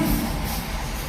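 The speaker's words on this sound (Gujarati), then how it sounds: "ટ્રેન" A long train rolls past close by in a brief, loud, dense rumble of wheels and carriages, with no voices over it.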